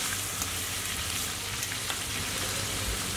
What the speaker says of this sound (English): all we're going to do guys is brown our skewers on all sides